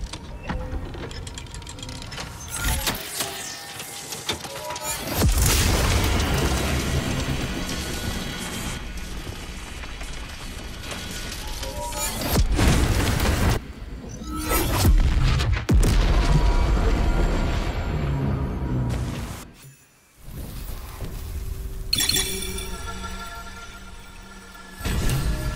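In the Baldur's Gate 3 monastery, a trap sets off grinding mechanisms and heavy explosive booms, with crashing debris and rumbling collapse that swell and fade over about twenty-five seconds.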